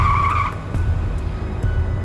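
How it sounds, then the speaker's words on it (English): Car tires skid and squeal on a snowy highway at night, a loud sharp squeal at the start giving way to heavy rumbling road and engine noise. "suddenly his tires began to slip,"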